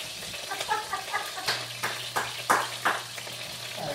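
Pieces of meat for an Irish stew browning in a hot pan, a steady soft sizzle with brief crackling pops and spatters, heard close with no talk.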